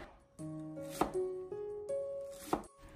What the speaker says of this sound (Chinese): 然后我们再准备半个紫皮洋葱，我们把洋葱切成细丝